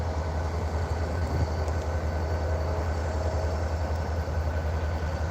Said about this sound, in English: I do hear another train coming